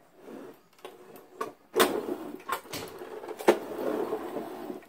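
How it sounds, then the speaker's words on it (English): A Bissell carpet sweeper rolls over and tries to pick up a big chunk of broken yo-yo, giving scattered mechanical clatters and a few sharp knocks over a low rolling rumble, close and fairly quiet. "Can it vacuum up a chunk of a big chunk of a yo-yo?"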